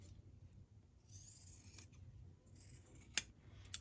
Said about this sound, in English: most of the time I just grab my large sewing scissors and trim them off.